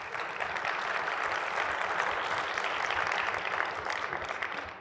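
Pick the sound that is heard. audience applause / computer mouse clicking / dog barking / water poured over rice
audience applause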